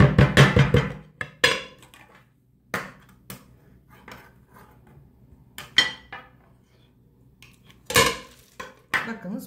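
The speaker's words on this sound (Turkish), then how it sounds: "Şimdi lokumumu şu şekilde ters çeviriyorum." A dish of Turkish delight is turned upside down and knocked to release it, giving a series of close clattering knocks and clinks of dish against surface, irregular and sharp, with quiet gaps between.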